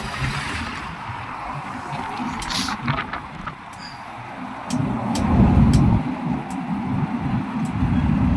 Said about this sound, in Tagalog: Laki ng truck na to